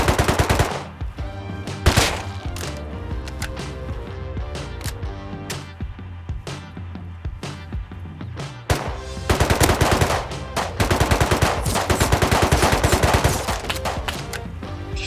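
Gunfire in the survival video game Rust, heard as a loud, sustained series of rapid shots and bursts through bushes, with a short lull before the firing picks up again, no talk over it.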